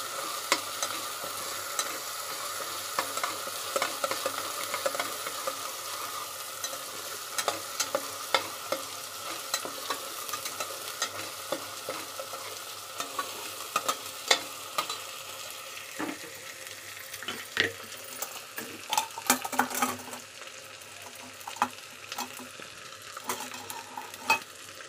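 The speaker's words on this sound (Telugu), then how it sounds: "కొంచెం అల్లం పేస్ట్ వేసుకోవాలి. ఇప్పుడు ఇది కూడా బాగా ఫ్రై చేసుకోవాలండి." Ginger paste fries in a pan for a mutton paya gravy curry, a steady broadband sizzle running throughout with frequent scraping clicks of a spoon stirring, alone without talk.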